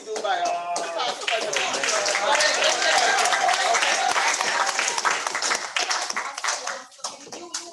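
Audience applause after a presentation at a weekly RCN meeting, dense sustained clapping from a crowd that holds steady for several seconds before thinning out near the end, with some voices mixed in.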